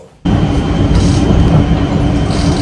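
A metro train bound for Dum Dum roars in loudly after a brief quiet start, then keeps a steady, close rumble of wheels and carriage noise.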